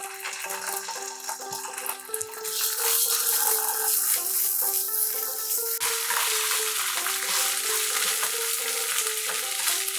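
Lentils frying in mustard oil with fennel and ginger paste for Bengali biulir dal: a steady, loud sizzle close by, swelling stronger after a couple of seconds and holding there, with faint scraping of stirring underneath.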